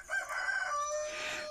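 Backyard chickens out roaming in a snowy-looking garden, a rooster's crow ringing out clearly at close range with soft hen clucks, a single short call filling the moment.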